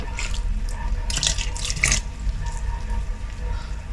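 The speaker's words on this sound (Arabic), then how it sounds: "عندي هنا الماء دافي غادي نديرو بسم الله" Warm water poured into a bowl of egg white while mixing bread dough for a tagine loaf, a close, steady trickle with a few brief splashes, no talking.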